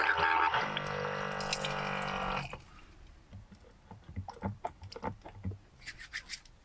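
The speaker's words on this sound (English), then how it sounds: "now I can wash my hands" Water runs from a small tap inside a car for a couple of seconds, then hands rub and splash wetly in short irregular bursts, close and fairly quiet.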